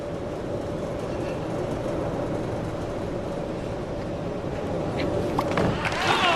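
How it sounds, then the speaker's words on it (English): A train rolls past on a railroad beside a bowling arena during a 1996 professional bowling championship, a continuous low rumble throughout with a steady tone and some rattling toward the end. "The railroad goes right near Savage Hall, so occasionally you'll hear a train."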